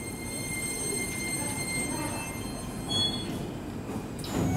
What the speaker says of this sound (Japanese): 到着の電車は成田空港行き6両編成での到着です。